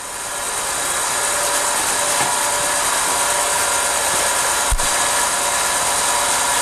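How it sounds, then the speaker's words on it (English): Loud, steady mechanical drone of vacuum pumps running while a diffusion pump starts up, with a constant rattling, ratchet-like hum and one sharp knock midway. "Okay, the diffusion pump is starting up."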